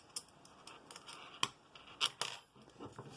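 Scissors snip the loose ends of a friendship bracelet thread. A few quiet, crisp clicks and snips are spaced apart against a soft background.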